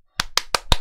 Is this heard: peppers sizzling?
no